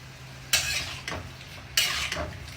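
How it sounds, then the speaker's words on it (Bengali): Metal utensils clatter and scrape in a pot of mini fish curry with radish being cooked in a home kitchen before dawn, two sharp bursts of clinking standing out over a low, steady background hum. "মূলা দেয়া মিনি মাছ দেয়া রান্না করতেছি"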